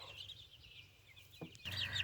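Chickens cluck in a backyard, with silky chicks among them: short, rapid clucks at a moderate distance, pausing briefly and then returning louder in a burst near the end.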